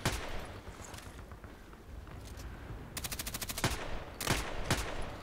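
Machine gun fire in the shooter game Contract Wars: a rapid burst of evenly spaced shots, then further short sharp bursts and single cracks, loud and close over background game noise.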